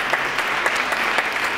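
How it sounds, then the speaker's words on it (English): A church congregation at a Sunday morning service claps warmly, a brisk, continuous round of applause heard close and without voices. "I think deserves a round of applause."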